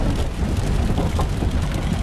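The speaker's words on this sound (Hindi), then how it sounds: "बादलों के नीचे आके तो बारिश पड़ रही है" Rain falls outdoors on a mountain road returning from Rohtang Pass, a close, continuous hiss and patter with a low rumbling undertone and no talking.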